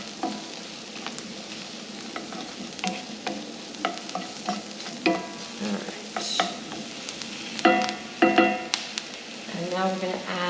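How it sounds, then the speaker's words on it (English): Mushrooms frying in butter in a skillet, a steady close sizzle with repeated scraping stirs and clinks of a utensil against the pan. "Sometimes those mushrooms will absorb a lot of that butter, and if that's the case and you feel like the pan is too dry,"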